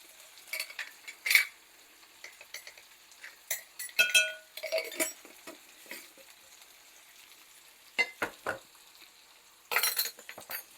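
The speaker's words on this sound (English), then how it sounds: "we're going to mix this together so that it'll all get blended in there well" Cornbread batter with baking powder and baking soda being stirred in a bowl, giving scattered scraping and clinking strokes with pauses, louder bursts near the start, middle and end, and no talking.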